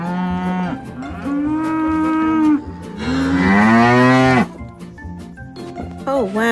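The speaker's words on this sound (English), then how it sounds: "cows say moo" Cows moo loudly and close by in a park in Scotland, two long drawn-out calls with rising and falling pitch, followed by quieter background noise and a brief rising tone.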